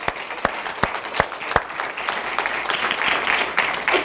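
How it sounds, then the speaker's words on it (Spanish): A church congregation gives loud applause to God, beginning with a few sharp, evenly spaced claps close by that swell into dense, continuous clapping from the whole room. "ese fuerte aplauso a Dios"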